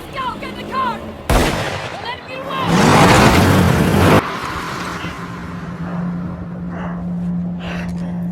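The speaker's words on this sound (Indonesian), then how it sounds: "semua warga di kota ini kompak menembaki Tanner dan Toby setelah mendengar berita tentang perampokan" Gunfire in a film scene as armed townspeople shoot at two fleeing bank robbers, heard as a sharp loud burst followed by a dense stretch of shots and commotion, with a car engine droning underneath afterward.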